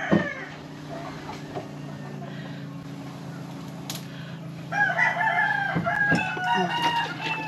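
A rooster crows loudly nearby while chickens cluck around it.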